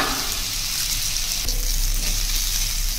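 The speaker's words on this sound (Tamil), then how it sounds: "சிம்ல வச்சுட்டு இந்த மாதிரி தேங்காய் பூ வந்து தீயாம வறுத்து எடுத்துக்கோங்க" Grated coconut and masala dry-roast in a pan over a low flame, a continuous soft crackling sizzle with faint scraping, close and steady.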